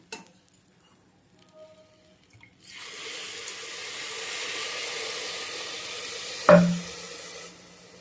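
Water pours steadily into a cooking pot for several seconds, a rushing hiss following faint clinks, with a sharp knock near the end before the flow stops.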